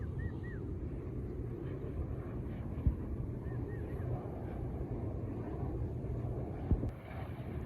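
A large electric fan runs with a steady low roaring drone like a distant airplane engine, constant and fairly loud, with a couple of faint bird chirps and brief clicks.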